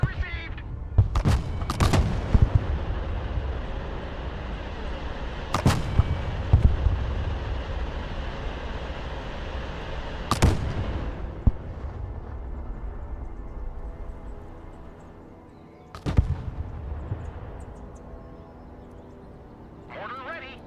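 Artillery fire mission in the modern-war strategy game Broken Arrow: several sharp, booming shots spaced a few seconds apart over a steady wash of battlefield rumble, with one heavier blast near the end.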